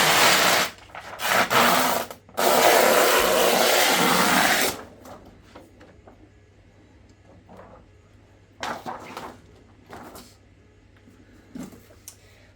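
A polarizing layer is peeled off an LG 34GK950F ultrawide monitor screen in loud rasping bursts of tearing film, followed by quieter intermittent crackles and scrapes.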